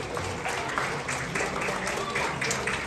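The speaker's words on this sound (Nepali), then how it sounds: "शेरबहादुर गुरुजीको लागि पनि एकजोट जोरदार तालीका साथ स्वागत गर्न चाहन्छु" Applause at a national-level abacus competition ceremony, a steady dense crowd clapping that holds throughout without a break.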